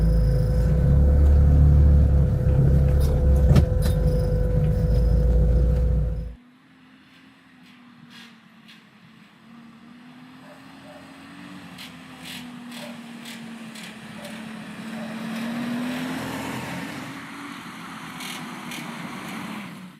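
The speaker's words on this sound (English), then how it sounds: "This car is from '73, but it drives like it's brand new." A 1973 UAZ-469 off-road vehicle with plain farm-type axles drives along, a loud engine rumble for the first six seconds, then a quieter, steady droning hum that rises and falls gently in pitch.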